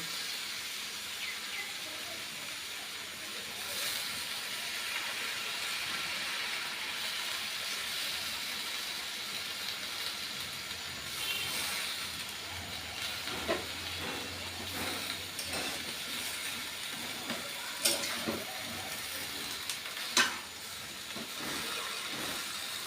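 Malabar spinach leaves and prawns sizzling and hissing in a hot pan as they are stirred, a steady broadband frying hiss with a few scattered clinks and scrapes toward the end.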